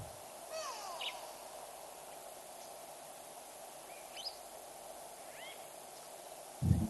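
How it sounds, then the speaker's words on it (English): Drawn-out, nasal calls of a grey go-away-bird ring out a few times against a steady outdoor hum by the Olifants River, moderately distant, with a brief thump near the end. "Great go-away bird calling in the background."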